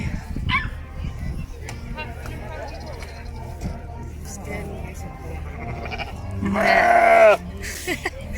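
Sheep bleat at a summer outdoor event in England, with a loud, drawn-out cry standing out near the end over steady background murmur and occasional talk.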